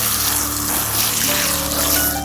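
Water runs onto the base of a tomato plant in a steady close trickle, with a faint mechanical hum underneath.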